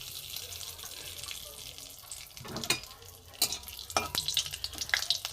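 Cumin, a dry red chilli, a bay leaf, cardamom, cinnamon and cloves sizzle in hot oil, a faint crackle broken by a few sharp clinks and stirring scrapes near the end.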